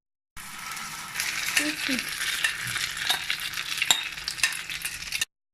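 Bread omelette mixture frying in a pan: a continuous close sizzle with scraping and spreading strokes from a spatula and a few small clinks, and no talking.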